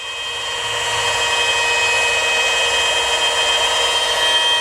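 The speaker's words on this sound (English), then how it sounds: "it can go even as light as literally just the machine itself, where I can just polish with one hand" A machine polisher runs steadily on car paint, removing 600-grit sanding marks, with a continuous close, loud whirring drone and no speech.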